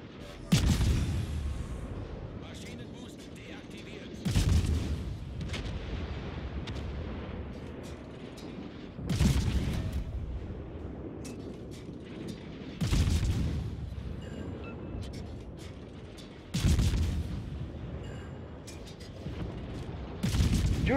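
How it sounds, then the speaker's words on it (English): Naval gunfire in a video game, with cruisers and the battleship Bismarck firing. Heavy booming salvos land roughly every four seconds, each followed by a rumbling decay over a steady background. "The Kurfürst was now being shot at from 3 different angles, with both of our cruisers, the Bismarck and me shooting at him."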